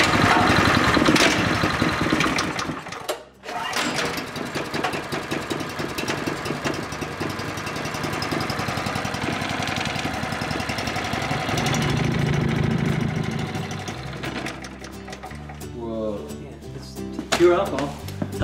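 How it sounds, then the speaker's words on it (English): Small engine fueled by homemade alcohol mixed with a little gasoline, running with a steady mid-pitched drone that briefly cuts out, then continues and roughens toward the end. "do you want me to give a shot to the engine?"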